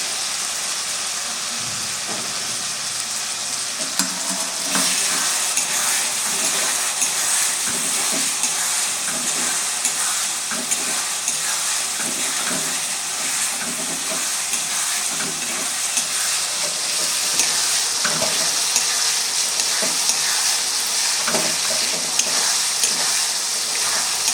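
Capsicum sizzling and frying in a pan while a duck curry is being cooked, a steady close hiss with intermittent stirring clatter throughout.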